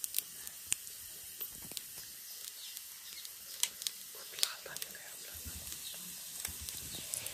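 Garlic fries in hot oil until red, a faint, steady sizzle and hiss with scattered small pops and crackles, heard close but quiet.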